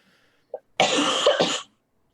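One person gives a short cough, then a longer, rough, drawn-out cough close to the microphone, and silence follows.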